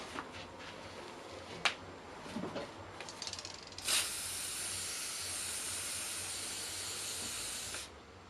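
Cleaner sprayed onto the opened transmission box of a Milwaukee brushless cordless drill: a few short clicks and brief hisses, then one long close, steady aerosol spray lasting about four seconds before cutting off.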